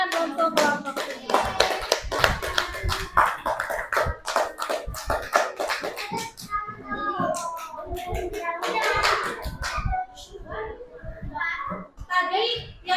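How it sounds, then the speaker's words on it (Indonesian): A group of schoolchildren in a classroom applauds a fellow student group after a demonstration, steady hand clapping mixed with lots of overlapping children's chatter and voices throughout. "Tepuk tangan untuk kelompok ini."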